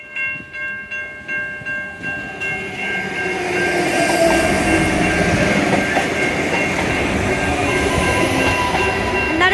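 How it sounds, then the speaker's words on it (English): An Adelaide Metro train at Largs North on the Outer Harbour line, with rhythmic clicks, then a loud close rumble and clatter of wheels on rails that builds and stays steady as it passes. "And that is the 513 train to Outer Harbour."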